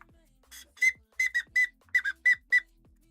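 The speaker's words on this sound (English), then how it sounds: "I can toot my horn. It's a whistle" A small toy whistle tooted about eight times in short, bright, shrill bursts, some paired quickly, in a quiet room.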